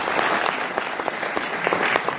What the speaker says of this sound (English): sir really deserves a big round of applause